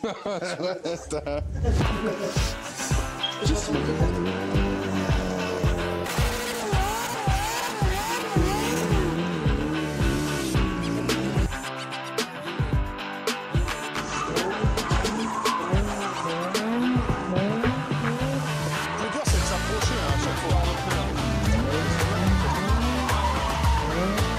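A Suzuki motorcycle is ridden hard for stunts, wheelies and burnouts, its engine revving and wailing up and down while the rear tyre squeals and skids almost continuously, loud and close, with voices and laughter over it.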